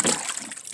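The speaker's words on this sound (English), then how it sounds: "Now, the waves." Water waves splash and slosh around a large floating watertight box from Outdoor Products, a close, steady wash of liquid with small spatters over less than a second.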